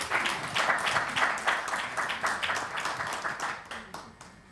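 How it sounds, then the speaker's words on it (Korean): Applause from a small audience at a joint candidates' debate for a social workers' association presidential election, a fairly steady patter of hand claps for several seconds that thins out toward the end. "지금까지 수고해 주신 전승남 후보님께 그냥 경의의 박수를 보내드립니다"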